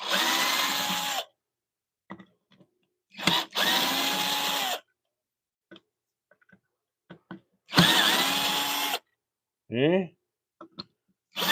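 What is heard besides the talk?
power driver taking out screws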